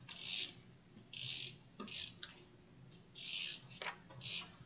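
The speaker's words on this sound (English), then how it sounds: "So I'll just add some tape" Adhesive tape is pulled off the roll in five or six short, crackling bursts and pressed onto paper, close and distinct, with brief taps between the pulls.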